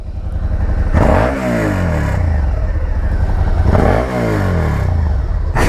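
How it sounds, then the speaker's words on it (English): A 2017 Suzuki SV 650 motorcycle with a V-twin engine, heard close up, producing a loud, throbbing exhaust note. It revs up twice in distinct surges, with a lumpy idle burble between the revs. "It has an interesting exhaust note."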